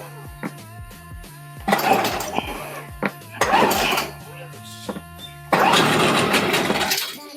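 Parsun outboard motor pull-started with the choke out, several rattling pulls of the starter cord in bursts, the engine coughing as it nearly catches, close and clattery.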